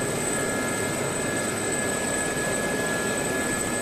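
An Sa-342 Gazelle helicopter in the DCS combat flight simulator gives a constant rushing turbine and rotor drone with a thin steady whine, unbroken and without voices.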